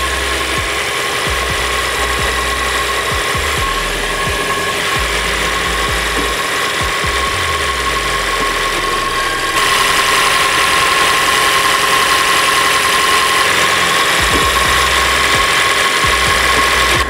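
A Toyota Innova Zenix hybrid engine idles after an oil change to synthetic hybrid oil, a steady even hum with no talk, stepping up slightly in intensity partway through and holding smooth to the end.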